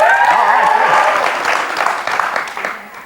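A studio audience at a 2004 talk-show interview cheers and applauds loudly, with a voice briefly audible at the start, then the clapping thins and fades over a few seconds.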